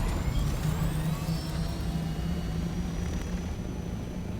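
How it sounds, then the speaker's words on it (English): A large sandstorm in a desert video game, heard as a broad, steady rushing roar of wind with a low hum beneath it, loud and continuous throughout. "Weather alert. A large sandstorm."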